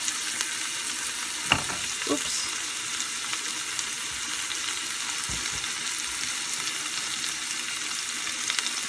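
Thick canned coconut paste sizzles in a hot pan for a shrimp malai curry, a steady frying hiss with a few knocks of a spoon as it is stirred, close and continuous.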